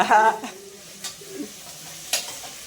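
Pulao masala fries in a pan as a spoon scrapes and stirs it, giving a few short, fairly faint scraping strokes over a low sizzle; a voice is briefly heard at the start.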